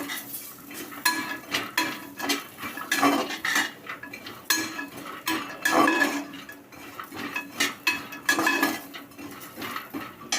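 Walnuts and almonds are lightly dry-roasted in a pan for dry fruit laddu, with a spoon repeatedly scraping and clinking against the metal in an uneven, close stirring rhythm.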